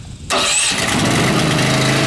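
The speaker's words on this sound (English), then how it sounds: "this is your engine start" A hydraulic power unit engine cranks and catches, then settles straight into a steady, loud running roar that continues unbroken at close range.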